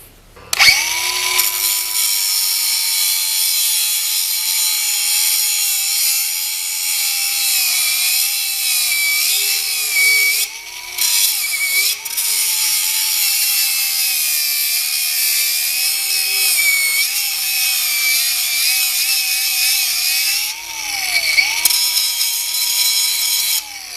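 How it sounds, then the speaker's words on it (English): An electric drill bores through a worn plough bolt on a Ferguson plough, whining loud and steady for over twenty seconds, its pitch dipping and recovering as the bit bites, with a few brief pauses. "I even ended up drilling straight through her"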